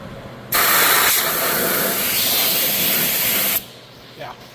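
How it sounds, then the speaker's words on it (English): A sprayer applying Fluid Film to a vehicle frame lets out a loud, continuous hiss lasting about three seconds, starting and stopping abruptly. "The sprayer works really well."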